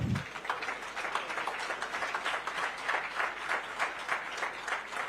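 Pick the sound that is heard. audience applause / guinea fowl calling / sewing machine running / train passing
audience applause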